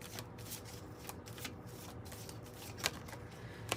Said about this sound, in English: I picked the two hardest decks to shuffle, actually.